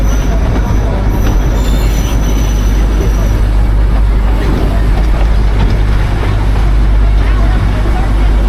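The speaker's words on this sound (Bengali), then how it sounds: "দার্জিলিং টয় ট্রেন জার্নি আমাদের খুব সুন্দরভাবেই হচ্ছে" The Darjeeling toy train rumbles along the rails on a mountain journey, a loud continuous roar of wheels with squeals and clatter close by, and voices talk over it.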